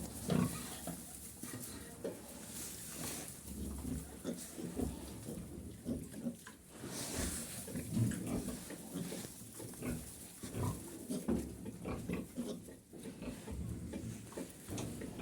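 A sow and her twelve-day-old piglets grunt and oink softly while feeding at a trough in a pen, with scattered squeals and splashy shuffling throughout, under occasional quiet talk.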